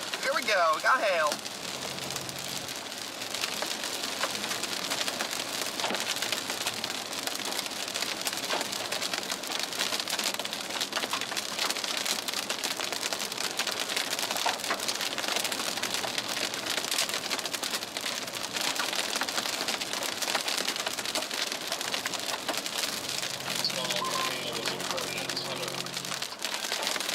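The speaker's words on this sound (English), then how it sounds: "Here we go. We got hail." Hail falls steadily during a nocturnal supercell storm in Oklahoma, a dense, continuous crackling patter that stays loud throughout, with a low hum briefly at the start and end.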